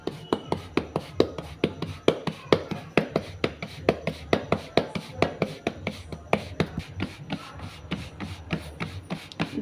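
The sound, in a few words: patting bhakri dough flat by hand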